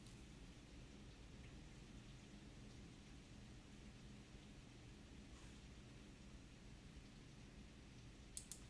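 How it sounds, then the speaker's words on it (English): Heavy rain pours down outside in a steady, faint, broadband wash that continues evenly throughout, with a couple of sharp ticks near the end and no voices. "Y'all hear that rain?"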